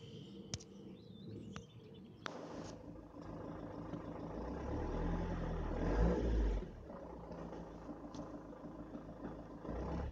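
A car engine cranks and runs during a 12V battery monitor test, a low rumbling drone that swells and settles, with faint bird calls in the background.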